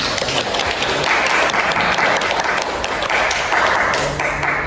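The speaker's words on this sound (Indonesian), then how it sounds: "tepuk tangan untuk para peserta kita yang luar biasa hari ini" Audience applause for contest participants, steady dense clapping with crisp individual claps that holds evenly for several seconds.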